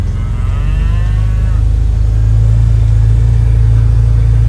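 An Angus bull gives a long, deep, loud moo close by, its low drawn-out bellow sustained steadily for several seconds.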